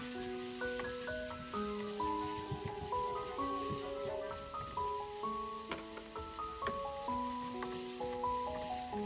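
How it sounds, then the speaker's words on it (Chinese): Sliced pork, lettuce stem and wood ear mushrooms stir-fried in a wok, giving a steady crackling sizzle with soft scraping and clinks throughout, no talking. "倒入备菜，翻炒1分钟即可。"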